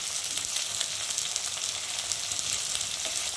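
Spices with chopped tomato, salt, turmeric and chilli fry in a pan for a tilapia curry, a continuous bright hissing sizzle close by with faint stirring scrapes, no voices.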